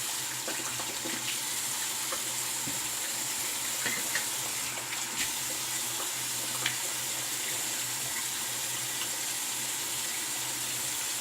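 Tap water runs steadily over a cartridge razor blade being rinsed, a continuous hissing stream with small splashy ticks, fairly quiet and alone without talk.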